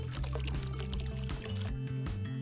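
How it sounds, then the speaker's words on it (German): Hot water pours in a steady, continuous stream over a low background hum. "Gebt noch mehr heißes Wasser hinzu."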